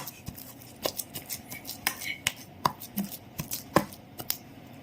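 Wood apple pulp and green chilies being pounded and crushed by hand, a series of sharp, irregular thumps and knocks up close, with no one speaking.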